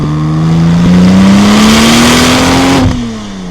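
A Porsche 996 Turbo Cabriolet with a six-speed manual revs its engine close by, the pitch climbing steadily for nearly three seconds before dropping off as the throttle closes.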